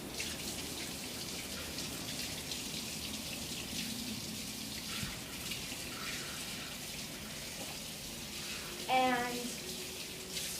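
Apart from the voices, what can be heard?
water running from a kitchen tap while washing hands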